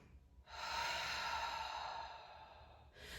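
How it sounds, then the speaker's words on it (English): Forceful breathing during a core exercise for runners: one long, hard, breathy exhale lasting about two and a half seconds, close and alone, fading near the end before another breath begins. "just take some long, hard exhales like this"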